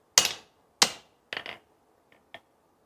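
Several sharp hammer strikes ring out on a metal railroad spike, spaced irregularly, loud and close, with two lighter taps at the end.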